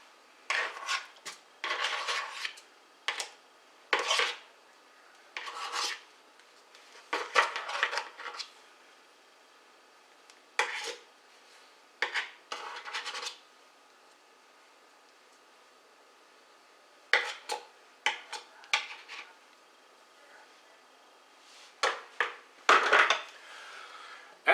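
Soft butter and sugar being mixed by hand in a bowl, giving repeated gritty scraping and rasping strokes in short bursts with pauses between them, close and fairly quiet.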